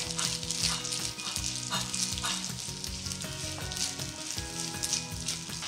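Sweet rice being mixed with sugar and a little yellow colouring in a hot pan, giving a steady close sizzle with repeated scraping stirs and no voices.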